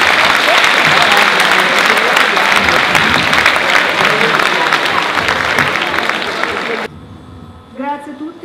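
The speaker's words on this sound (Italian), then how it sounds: "facciamole un applauso" An audience at a school event on digital education breaks into loud, sustained applause close to the recorder for about seven seconds, then it stops abruptly and a voice is briefly heard over room tone.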